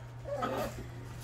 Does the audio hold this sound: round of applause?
no